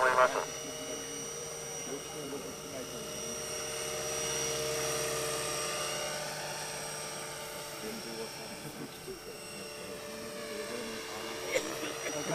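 A Bell 222 scale radio-controlled helicopter flies in a steady whining drone with a constant rotor hum that rises and falls slightly as it moves, while someone talks over it throughout.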